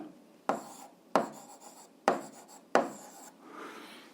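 A pen writing on paper while working an 8th-grade algebra exercise, four or five short scratchy strokes with brief pauses between them, close and quiet, no talk.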